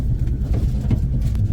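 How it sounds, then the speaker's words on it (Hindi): A dull, constant low rattle and rumble fills a moving coach of the 12416 Indore Intercity express train travelling from Delhi on a rainy day, steady and close with no talking. "यहाँ पर एक खड़खड़ की आवाज़ आ रही है।"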